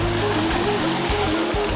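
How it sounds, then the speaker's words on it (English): Rushing water from a waterfall roars steadily and loud throughout, a dense broadband wash with no voices over it. "We're gonna go under the waterfall."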